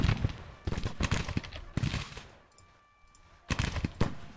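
Musket volleys crackle in a Civil War battle in the video game Grand Tactician: The Civil War. Several loud, ragged bursts of gunfire come one after another, with a short lull before the last volley.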